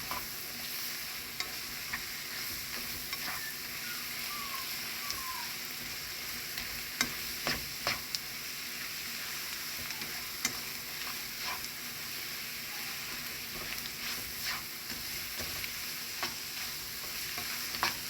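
Chicken and dumplings are stirred in a pot over a soft, steady sizzle, with a spoon tapping and scraping against the side at irregular intervals; no one talks.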